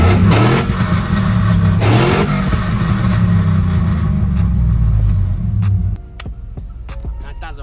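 A Chevrolet Silverado pickup's deep engine rumbles and revs loudly for several seconds, then drops to a lower idle.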